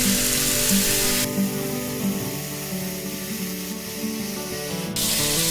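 Steady frying sizzle of pork belly stir-frying in its own rendered fat, with a sharp hiss that rises and drops back, continuous throughout with no talking.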